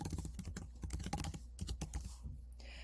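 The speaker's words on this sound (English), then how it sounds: "type your email here." Computer keyboard typing as an email address is entered, a quick run of close, crisp key clicks with small pauses, no voices.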